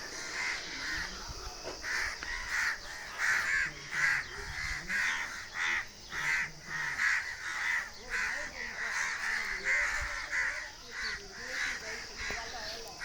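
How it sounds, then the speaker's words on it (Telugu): Many crows cawing in repeated loud bursts close by, with a busy overlapping rhythm of harsh calls through the whole stretch. "చూడండి ఎన్ని కాకులు నన్ను పొడుస్తాయి ఈ కాకులు."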